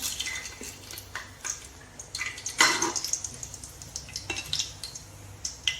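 Whole cinnamon and cloves drop into hot oil in a pan while making chicken biryani, giving light sizzling and scattered clinks of utensils against cookware, close and fairly quiet, with no voices.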